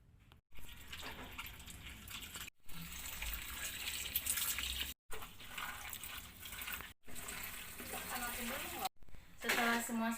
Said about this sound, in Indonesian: cuci semua bahan hingga bersih dengan menggunakan air keran yang mengalir